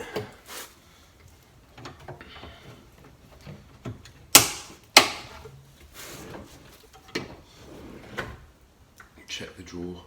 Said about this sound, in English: click the drawer in like that.